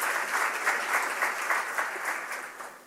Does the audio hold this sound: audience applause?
yes